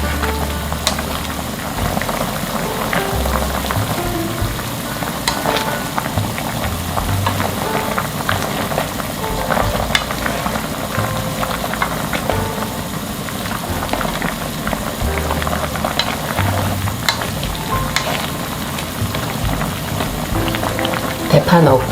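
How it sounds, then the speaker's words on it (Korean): Korean beef and radish soup simmers in a pot after green onion goes in, with a continuous dense bubbling and popping close by at a steady moderate level throughout. "대파 넣고 한 소끔 끓였고요."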